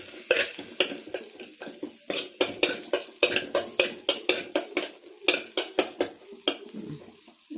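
Garlic cooks in butter and sunflower oil in a pan under a faint sizzle, while a metal utensil clinks and scrapes against the pan in a quick, repeated rhythm, close and loud.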